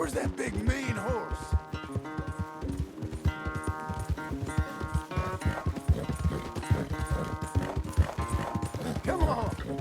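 Horse hooves clip-clop steadily in Red Dead Redemption 2, set in a corral, mixed with game music and other sounds, with occasional neighing under the dense mix.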